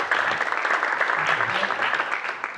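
Luncheon audience at a Tampa Bay Rays CEO business event breaks into a steady round of applause, loud and dense throughout, with faint voices mixed in.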